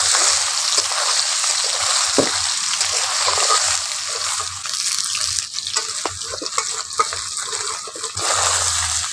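Soybean chunks fry in hot oil and are stirred, a steady loud hiss and crackle with scattered scraping knocks from the spoon, close up and with no talking.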